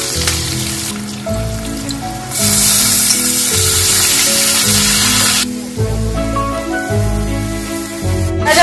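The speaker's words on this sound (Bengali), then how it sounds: "এবার আমরা দিয়ে দিচ্ছি কেটে রাখা পেঁয়াজ সামান্য পরিমাণ।" Chopped onion hits hot oil already holding bay leaf, cinnamon and whole cumin for a banana-flower fritter curry, giving loud bursts of sizzling and spitting over background music.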